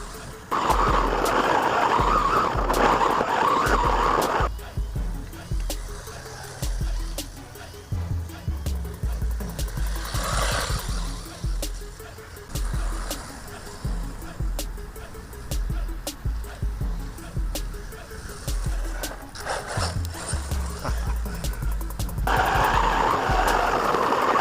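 A Wltoys 124016 brushless RC buggy fitted with upgraded wheels drives off road, its electric motor whining and rising and falling as the tires scrabble and skid over loose ground, loud and close throughout.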